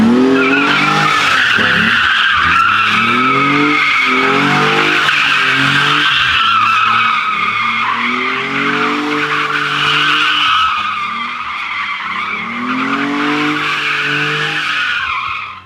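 A V12 BMW E34 spins tight donuts, its tires skidding and squealing in a loud, continuous wail that wavers in pitch over the engine's roar for the whole stretch.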